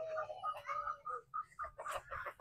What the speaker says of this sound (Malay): Sangkar ayam pendelur.